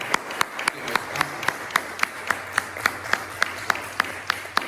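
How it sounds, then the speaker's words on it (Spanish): A church congregation applauding in praise, steady rhythmic clapping with regular sharp claps throughout, moderately near and without talk. "Den un aplauso fuerte al Rey de la Gloria"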